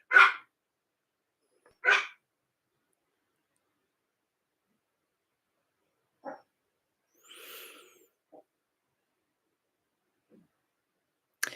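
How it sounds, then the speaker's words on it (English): Two sharp dog barks at the start, then scattered faint small noises and a soft rustle in a mostly quiet setting. "he still barks."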